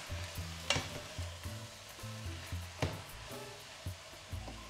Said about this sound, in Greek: Ανακατεύουμε για να ανακατευτεί και με το κρεμμύδι και σκόρδο που ήταν από κάτω.